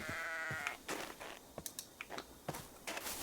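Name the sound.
sheep bleating in a video game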